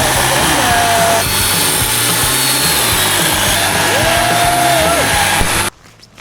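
A chainsaw cuts firewood at a camp in Vogel State Park on the Appalachian Trail. Its loud, close, continuous snarl rises and falls in pitch as the engine revs, then cuts off abruptly near the end.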